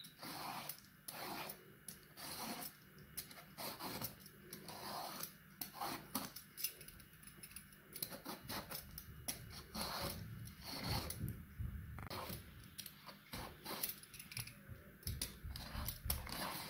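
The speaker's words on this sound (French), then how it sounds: "On va éplucher le poivron comme ceci." A bell pepper being peeled by hand, giving a long run of close, irregular scraping and crackling clicks with no talking.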